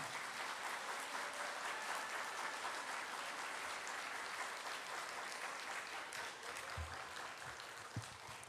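Sustained applause from a large church congregation welcoming a pastor at a worship service, steady and full throughout, tapering slightly near the end with a few louder claps standing out.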